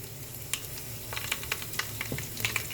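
Cumin, mustard seeds and dried red chillies sizzle in hot oil, a close steady crackle with scattered sharp pops from the spluttering seeds.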